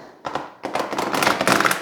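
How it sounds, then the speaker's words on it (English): A deck of oracle cards being briefly shuffled by hand, giving soft papery riffles and light taps that start after a short pause and continue close-up. "So I'm just going to do a quick little shuffle on these"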